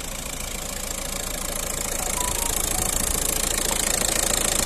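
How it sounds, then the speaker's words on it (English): A Volkswagen Touran 1.9 TDi diesel MPV with a manual gearbox idles steadily, its close, even engine clatter running unbroken and alone. "engine sound nice and smooth"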